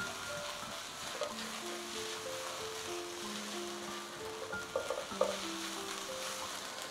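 Vegetables with chopped green chillies stir-fried for a restaurant-style gobi manchurian, a steady sizzle running throughout with a cluster of sharper scraping clatters near the end and faint background tones.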